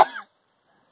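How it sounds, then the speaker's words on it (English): A girl with a cold gives a single short cough, close and fairly loud, then silence. "Sorry for my sister coughing, because she's trying to get over a cold"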